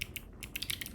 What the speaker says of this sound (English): I am using a split keyboard.